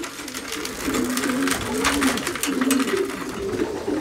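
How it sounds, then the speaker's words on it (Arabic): Pigeons coo repeatedly in low, rolling calls, close and steady, over a constant background hum. "الحمام مازال باغي ياكل"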